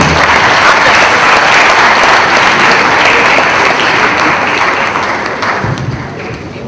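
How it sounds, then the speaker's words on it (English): An audience at an annual foundation lecture breaks into loud, full applause that holds steady for several seconds before tapering off near the end. "Please a round of applause for him."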